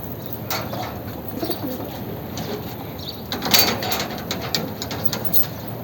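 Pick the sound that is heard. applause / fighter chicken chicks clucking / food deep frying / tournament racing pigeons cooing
tournament racing pigeons cooing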